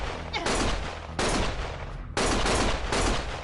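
Gunfire in the video game Lost Judgment comes as three loud sustained volleys of rapid shots, each cutting off briefly before the next burst starts.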